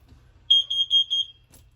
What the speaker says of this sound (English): Around the corner from there, you've got your carbon monoxide alarm.